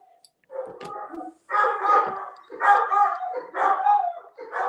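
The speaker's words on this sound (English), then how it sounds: "Oh, you hear Maggie howling?" A dog howls in a series of long, wavering, drawn-out cries, loud and close, several rising calls in a row with brief gaps between them.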